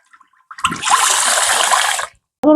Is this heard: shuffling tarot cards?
no